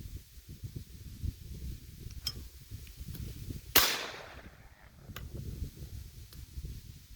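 A single sharp shotgun blast rings out at a clay pigeon on an outdoor shooting range, a loud crack with a decaying tail standing alone over steady low background rumble.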